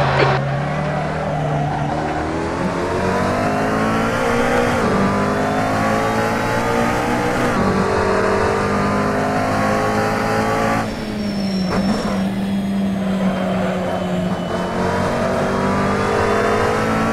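Race car engines roar continuously during a multiclass race at the Red Bull Ring in the Assetto Corsa game, loud sustained revving that rises and drops through gear changes, with tire noise mixed in and no speech.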